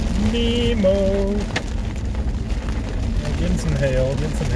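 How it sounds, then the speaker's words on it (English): Hail and heavy rain pound a storm chaser's car during a dangerous Kansas supercell, a dense continuous patter on the roof and glass, with people talking inside the car over it. "Getting some hail, getting some hail."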